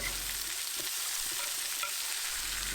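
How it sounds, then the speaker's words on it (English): Onions and peppers sauté in hot oil in a pan for a chicken tagine, giving a dense, continuous sizzle that stays close and even throughout, with no voices. "now I'm going to add in my onions and my peppers and saute them for a couple of minutes"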